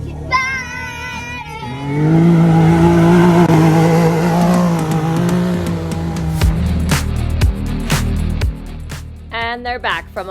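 A Can-Am off-road vehicle pulls up close, its engine swelling loudly then idling and revving in bursts, with voices talking over it near the end.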